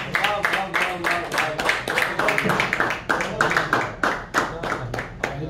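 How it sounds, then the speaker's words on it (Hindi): Audience at a Hameeda Shaheen Qirtas mushaira clapping in a steady run of sharp, close hand claps, loud and continuous throughout. "मैं आप सबकी भरपूर तालियों में आपा हमीदा शामिल करूंगा।"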